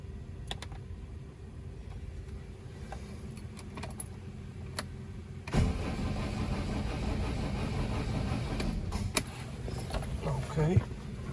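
A 1969 Renault R16 engine, started on choke, cranks and catches about halfway through, then settles into a steady close idle; earlier there are light clicks and rattles of handling.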